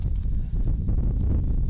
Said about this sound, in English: Oof, very strong gusts.